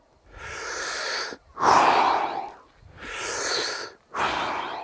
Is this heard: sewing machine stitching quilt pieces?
no